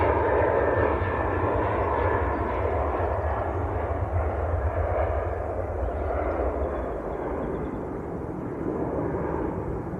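An airliner departing Manchester Airport, its deep jet roar loud at first and slowly easing as it climbs away, with no one speaking.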